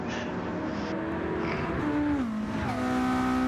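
Race car engines in an online racing video game, whining and shifting pitch as cars accelerate and change gear, a continuous layered drone with no talk over it.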